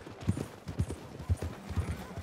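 A horse's hooves clip-clop at a walking pace in Red Dead Redemption 2, a run of close, distinct thuds in uneven rhythm over faint background noise.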